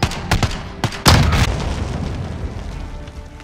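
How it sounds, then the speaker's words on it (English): Gunfire in a video game: a few sharp pops early on, then a loud boom around the one-second mark, trailing off into a rumbling decay with no speech. "Gunfire."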